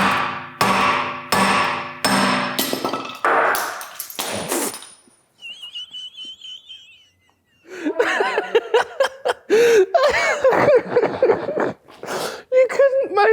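A car wheel bearing knocked out with a hammer, a run of loud sharp metallic blows close by, then a quiet gap and people laughing and talking.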